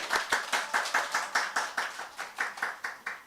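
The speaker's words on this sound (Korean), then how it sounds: "우리 감사의 박수 한번 드리겠습니다" A church congregation at a Sunday worship service claps in unison to give thanks, a steady rhythmic beat of about four claps per second, fairly close and moderately loud with no talking.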